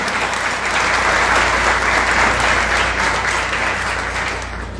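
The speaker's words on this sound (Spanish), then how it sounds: "vamos a dar un aplauso a Torrico" Sustained applause from a seated audience at a book presentation, dense and steady throughout, loud and close, with a faint crowd murmur beneath and slowly tapering near the end.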